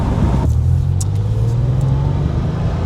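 A Porsche 964 America Roadster driving through the city on a mild day, its engine giving a loud, steady rumble that rises briefly in pitch as it accelerates, heard close from inside the car without talk.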